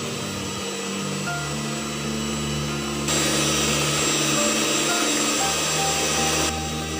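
An electric mixer creaming butter and sugar whirs steadily close by, a constant motor drone that jumps louder partway through as its speed increases, then eases back near the end.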